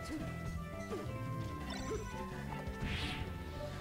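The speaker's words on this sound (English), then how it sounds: "Dash attack by Lukademus" Dash attack hits land in a Super Smash Bros. Melee grand finals match, sharp game impacts over constant crowd and commentary noise, with a bright swooshing effect near the end.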